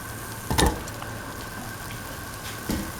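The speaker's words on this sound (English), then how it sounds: "Put in the tomato pieces" Tomato pieces fry in a pan with a steady, soft sizzle, broken by two brief clattering bursts as they drop in or are moved, heard up close and alone.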